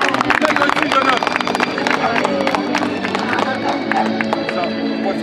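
Audience claps loudly for a young boy volunteer called up at a magic show, dense steady applause with crowd murmur and voices throughout.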